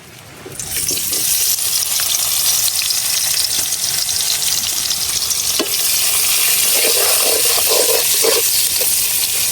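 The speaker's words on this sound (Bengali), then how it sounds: "এখন মাছ ভাজার তেলের মধ্যে দিয়ে দিতেছি পেঁয়াজ কুচি" Chopped onion dropped into hot oil left from frying fish, a loud sizzle that rises suddenly and holds steady and close, with a few clinks and stirs near the end.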